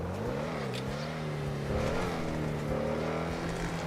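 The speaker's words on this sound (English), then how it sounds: "My 1992 Ford Escort RS Cosworth with the plate KI81848." The engine of a 1992 Ford Escort RS Cosworth in a driving game hums at a steady rev, with the pitch dipping and rising gently through a continuous close drone, and no voices.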